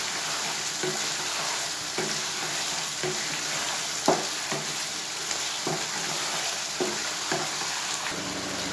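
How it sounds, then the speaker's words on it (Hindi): Chicken karahi masala with mustard paste and crushed red chili stir-fries in oil, giving a continuous close sizzle broken by regular scraping strokes of a spatula against the pan, roughly one per second. "मस्टर्ड पेस्ट और कुटी हुई लाल मिर्च ऐड करने के बाद हम इसकी इतनी भुनाई करेंगे कि ऑयल अच्छी तरह अलहदा हो जाए मसाले से।"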